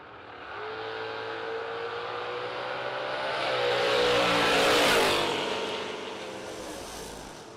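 Drag racing cars launching down the strip, one of them a Mustang: a sustained engine roar that rises to a peak and then fades, heard from a distance with no voices over it.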